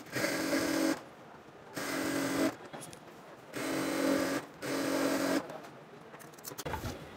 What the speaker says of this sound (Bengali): দুইটা সাইড কিন্তু সেলাই করে নিয়েছি